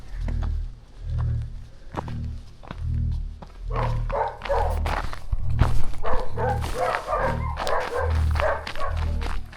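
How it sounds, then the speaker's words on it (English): A dog barks repeatedly from behind a fence on a rural property beside an overgrown hiking trail in southern Spain, with steady, fairly close barks running through the whole stretch. "This dog's barking, it's behind a fence."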